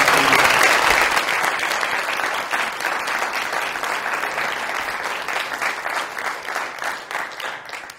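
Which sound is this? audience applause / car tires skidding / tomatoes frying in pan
audience applause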